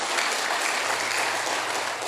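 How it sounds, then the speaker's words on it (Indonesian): A church congregation applauds its musicians with a brief, full burst of dense clapping that holds steady throughout without any talk. "Tepuk tangan buat mereka."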